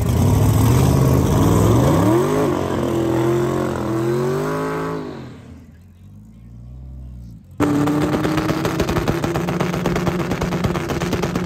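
A car engine revs hard with rising and falling pitch sweeps, then cuts out briefly. It roars back at full volume, loud and close, with no talk over it.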